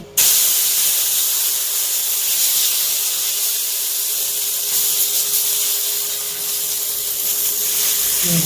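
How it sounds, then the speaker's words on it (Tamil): Green gram adai with drumstick leaves sizzles in oil on a hot pan, a loud, steady hiss close up that carries on unbroken for over eight seconds. "கொஞ்சம் எண்ணெய் ஊற்றிக்கோங்க"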